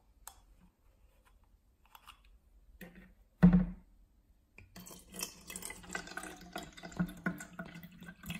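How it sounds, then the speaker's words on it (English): Acqua Panna natural spring water from Tuscany, Italy, poured from its bottle into a container: a short splash, then a steady, close trickling pour lasting several seconds. "Let's pour some in to see the TDS and pH levels."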